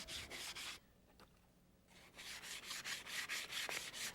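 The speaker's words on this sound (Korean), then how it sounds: "고운 사포로 문질러주면서 광택 작업이 이루어진다" Fine sandpaper rubs against jade in quick repeated strokes while polishing it, a soft rasping rhythm with a short pause in the middle.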